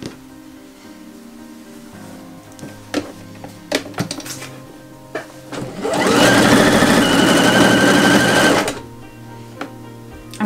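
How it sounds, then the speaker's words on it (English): A sewing machine runs in one steady burst of about three seconds, stitching the straps of a pinafore dress close to a folded fabric edge, with quieter clicks and handling taps before and after. "I'm actually ready to sew the straps in place."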